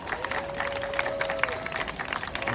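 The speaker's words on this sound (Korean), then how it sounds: "다시 한번 큰 박수 함성 부탁드립니다" Crowd at an outdoor Palestine solidarity rally applauding and cheering in a steady, dense wash of clapping, with a sustained shout rising over it and lasting the whole stretch.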